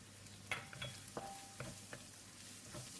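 Brinjal cooks in ghee with curry powder as a quiet sizzle runs under a few distinct scraping and clinking stirs of a utensil against the pan.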